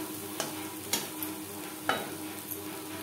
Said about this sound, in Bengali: মিডিয়াম ফ্লেমে 2-3 মিনিট নাড়াচাড়া করে দেবো।